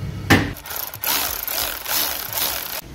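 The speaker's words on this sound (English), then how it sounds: "I'm just going to go ahead and tighten up on all four." A hand ratchet tightens the bolts on an oil filter housing of a 2012 Audi A1, giving repeated rasping, scraping strokes close up, with a sharp knock at the start and brief pauses between pulls.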